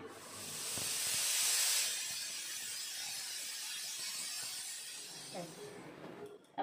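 Steam hisses loudly from a pressure cooker on a gas stove as lentil porridge cooks inside, building to a strong, steady rush that holds for several seconds and then eases off, with faint kitchen clatter near the end.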